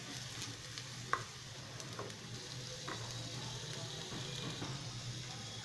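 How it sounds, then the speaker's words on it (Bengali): Garlic frying in oil gives a faint, steady sizzle, with a few soft stirring taps and scrapes in the pan. "রসুনটা সেই অবধি আমি এটা তেলে নাড়াচাড়া করব"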